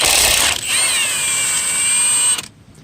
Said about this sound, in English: that is the tool doing that to remove the lug nuts where it slows down